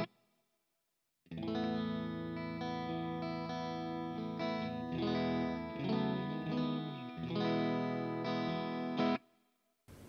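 An electric guitar runs through amp and cabinet simulation with no pedals added. After a short silence it plays sustained, ringing chords that change a few times, loud and steady for about eight seconds before cutting off.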